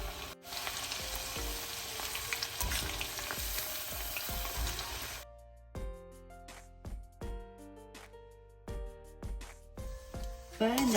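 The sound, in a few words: frying chana dal (split chickpeas) in oil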